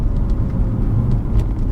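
A BMW 320d M Sport on a test drive, heard as a steady low cabin rumble of engine and road noise, loud and continuous with faint ticks above it.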